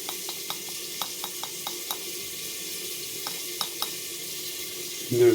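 Chili powder and dry ginger powder sizzle in hot oil as a soft, steady fizz, punctuated by light, regular ticks and clicks. A louder clatter comes right at the end.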